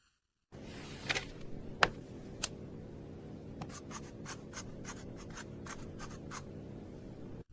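A pen writes on a paper form at a doctor's office, close and quiet, with a few sharp taps followed by a run of quick, evenly spaced scratching strokes.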